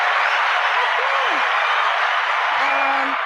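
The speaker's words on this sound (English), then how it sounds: "Give ourselves a round of applause" Steady, dense applause plays through the whole stretch, with a couple of brief vocal whoops or voices rising over it partway through.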